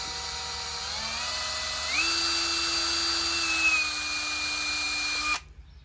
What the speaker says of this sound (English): we're going to turn the drill and then lift up